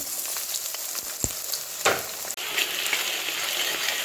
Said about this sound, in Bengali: তো পেঁয়াজটা ভাজা ভাজা হয়ে এসছে,